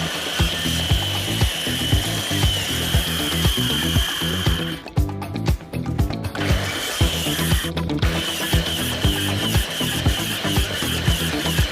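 A power tool saws a notch out of a mailbox post, a loud, steady, rhythmic cutting sound running nearly throughout, with a short pause in the middle before it resumes.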